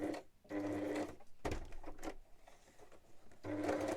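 A sewing machine stitches in short bursts. Several bursts of motor whirr are split by pauses, with faint handling clatter in between, and the sound is moderately quiet.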